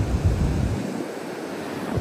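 Ocean waves surging and washing up on a beach where storms have knocked down houses, a steady full roar of surf with wind buffeting the microphone, no voices.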